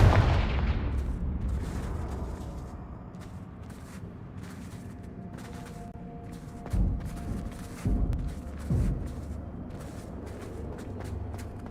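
A Confringo explosive spell blasts in Hogwarts Legacy, opening with a loud booming burst that decays into rumble, followed by several shorter thumping impacts.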